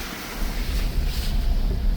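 Rainwater rushes through small forest streams in Jim Corbett after heavy rain, a dense, continuous wash of noise close by, blended with some wind, with no voices.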